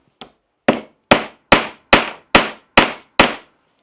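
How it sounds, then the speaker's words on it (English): A hammer whacks a piece into a freshly drilled hole in a homemade camera flash box: eight sharp, loud, evenly spaced strikes, each ringing briefly, with no voices. "whack that in with an hammer,"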